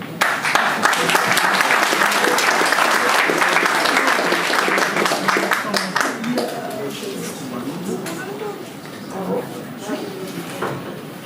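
Loud crowd applause at the official opening of the Brazzaville image festival (FESTIM), dense clapping that swells and then gradually thins out over several seconds.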